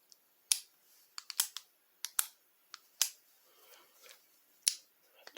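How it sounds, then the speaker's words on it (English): Ratchet selector switch on a hand tool clicking through a dozen sharp, crisp snaps at irregular intervals, close and isolated against near silence. "Real beefy click on the selector."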